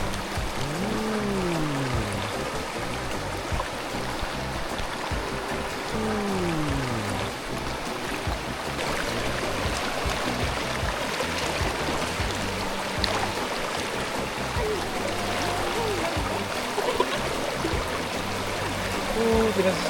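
A river flows steadily throughout, with a continuous broadband wash of moving water at a campsite, while people's voices and chatter repeatedly rise over it.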